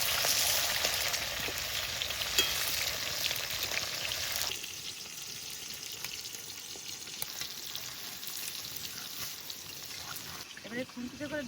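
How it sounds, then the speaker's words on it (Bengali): An egg omelette fries in mustard oil in a hot kadai with a continuous hissing sizzle, stronger for the first few seconds and then settling to a softer, steady crackle, with a voice talking over it. "কড়াই গরম হয়ে গেছে, সর্ষের তেল দিয়ে ডিমের মামলেট করে নেবো।"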